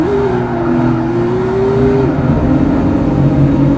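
Race car engines roar steadily and loudly in the Nissan 350Z RS racing game Gran Turismo, a sustained, droning whine with pitch shifts as the cars accelerate and hold speed, continuous throughout.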